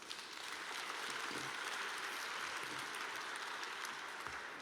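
Audience applause for sponsors at a Lunar New Year of the Rabbit gala, a steady wash of clapping from a large room, fairly faint and sustained throughout.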